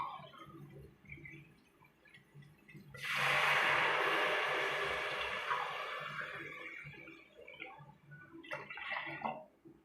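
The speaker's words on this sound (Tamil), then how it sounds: "இப்போ நம்ம 3 டம்ளர் 3 ஆழாக்கு தண்ணி வச்சுக்கலாம்" Water for tomato rice is poured into a pot in one steady gush lasting a few seconds, splashing loudly before easing off, with quiet kitchen clatter on either side.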